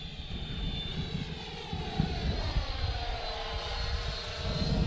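An FW Avanti S electric ducted-fan model jet flies overhead, its steady whooshing fan whine holding loud and continuous throughout with a slight swell partway.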